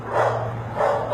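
A dog gives two short, loud barks close by during a police temperament test, heard alone.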